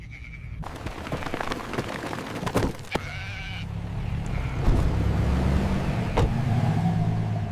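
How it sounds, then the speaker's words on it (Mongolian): Sheep bleating in a rural Mongolian setting, heard alongside a running car with a steady engine rumble and wind noise, the bleats rising above the vehicle sound at intervals. "Ямар их майлдаг хонь вэ?"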